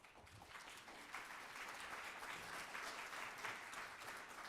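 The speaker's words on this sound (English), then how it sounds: "please, a round of applause." Applause from a conference audience greeting a business panel on Chinese consumers, a steady, dense wash of clapping that holds for several seconds with no talk.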